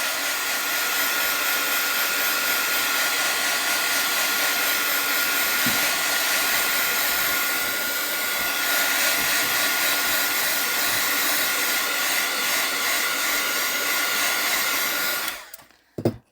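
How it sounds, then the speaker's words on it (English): A heat gun blows hot air steadily over a handmade card, a loud continuous whooshing roar lasting about fifteen seconds before it switches off with a brief click. "I'm just going to give this a quick shot with the heat gun."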